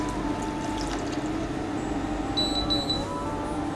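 Rice flour mixed in water is poured into a pot while making mahalabia pudding, giving a steady, continuous liquid pour close by with a faint hum underneath.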